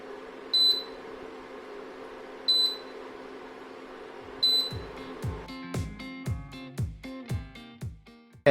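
Three evenly spaced high electronic beeps from an induction stove with no pot on it sound over a quiet hum, then a series of sharp clicks and knocks follows.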